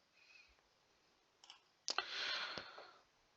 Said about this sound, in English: As of now I'm just typing.